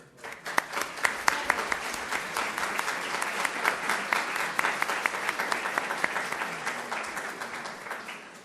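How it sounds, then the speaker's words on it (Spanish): An audience at a literary discussion on Ribeyro gives a sustained, dense round of applause for Giovanna. It starts with sharp, loud claps, then settles into a steady wash of clapping. "convocar a todos los presentes a brindarle un fuerte aplauso a Giovanna."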